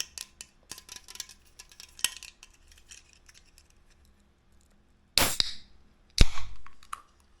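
Can of Black Energy Tropic drink handled with small clinks and taps, then a sharp pop as the tab cracks open and a brief fizzing hiss follows, close and clear.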